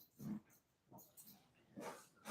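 A Shih Tzu dog snores and grunts in several short, rough bursts separated by brief pauses, close to the microphone and fairly quiet, with no talking.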